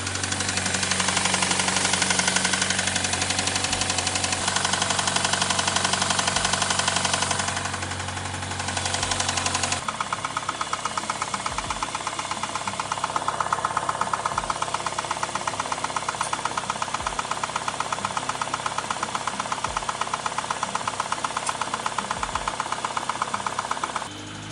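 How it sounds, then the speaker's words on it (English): A first-generation Acura RDX Turbo idles loudly close up with a persistent knocking from near the intake, a steady mechanical rattle that carries through the whole stretch and shifts in tone partway through. "we know the starter works, car's running, but we're still getting some knocking"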